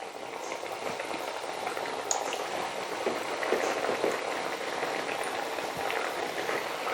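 Balushahi deep-frying in hot oil gives a continuous close bubbling and fizzing. Soft crackles and small pops rise and fall throughout, with no voices.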